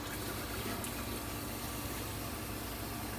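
Water pours steadily into a stovetop pot of pot roast, a continuous broadband splashing rush that stays loud and even throughout, with no talking.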